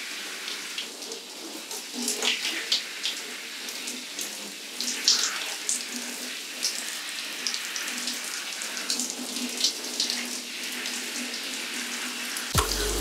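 Water runs steadily from a tap while hair is rinsed out after a hair and scalp treatment wash, a continuous close splashing hiss with small spattering bursts throughout and no talk.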